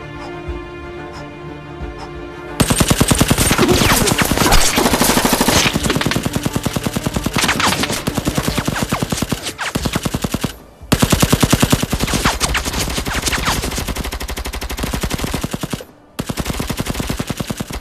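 Machine gun fire in a Chinese war drama about a scout unit, long, loud, continuous rattling bursts broken by two brief pauses, with no talk.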